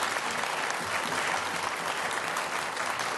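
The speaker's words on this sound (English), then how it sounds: "We're just going to clap because it's youth" An audience at a Richmond city council meeting claps for a youth group, a steady dense wash of applause that holds evenly at a constant level throughout.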